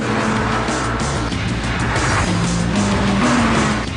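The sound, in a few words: high-revving car engine spinning at 8,000 RPM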